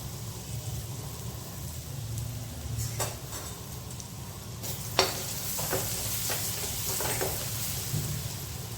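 Chopped onion fries in oil in a pan for white sauce pasta, a steady soft sizzle with occasional stirring clicks and taps from a utensil, close by and with no talking.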